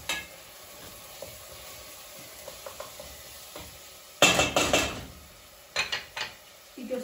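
Gözleme filling with chili flakes is stirred in a bowl, soft scattered scrapes followed by a few louder, close bursts of mixing, with quiet pauses between.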